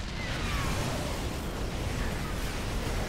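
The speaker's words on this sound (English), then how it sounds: "Tank blows once again." Siege tank exploding in a StarCraft 2 match: a loud, continuous rumbling blast with dense crackle and debris, sustained at steady intensity throughout amid ongoing battle noise.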